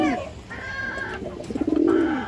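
A female Muslim-breed pigeon, a high-quality bird offered for sale, coos close by: one throaty call at the start, a quiet stretch, then a longer pulsing, rolling coo near the end.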